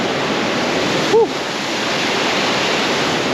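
A Montana creek rushing loudly and steadily close by, a dense continuous roar of flowing water, with a brief faint squeak partway through.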